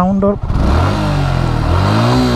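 A Suzuki Gixxer SF Fi ABS motorcycle with about 10,000 km on it revs up close by, its exhaust note climbing in pitch after a short throttle blip and holding a strong, steady drone.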